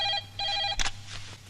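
A telephone ringing after a number is dialed, two bursts of a bright electronic ring with a short gap, followed by a clunk as the call connects, close and clear over a low steady hum.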